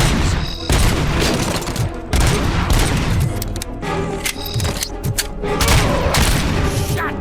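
Heavy gunfire rattles out in the PS5 RoboCop game, dense bursts of loud shots and booming impacts tumbling over one another with only brief gaps between volleys.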